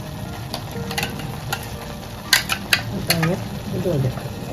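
Masala sizzling as it roasts in a pan for Goan mango ghotache sasav, soft frying crackle with a few sharp utensil clicks and scrapes, a voice speaking briefly over it.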